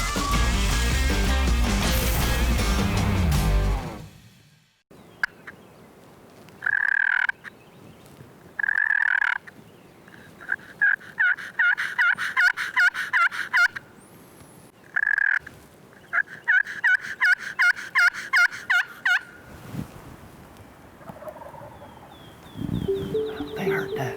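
Wild turkeys gobble in repeated bursts in the Roanoke Gamelands, Mitchell County, rattling calls that come in quick runs with short silences between, after a loud rush of noise at the start.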